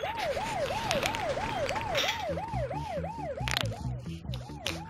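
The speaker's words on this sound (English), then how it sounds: "I still heard the cop siren" A wailing police siren in the video game Bully cycles rapidly and steadily up and down, loud and close, with engine rumble and other electronic tones layered beneath it.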